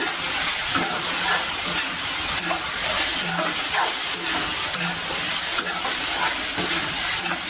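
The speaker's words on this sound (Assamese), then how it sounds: "এইখিনি অলপ টাইম ভাজিম" Soybeans and egg sizzle in a pan with a constant bright hiss and crackle, loud and close, with no talking.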